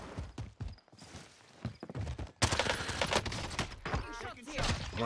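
AMP63 pistol fire in Warzone: a quick run of sharp sharp shots cracking close by, mixed with footsteps and other battle noise, with people talking in between.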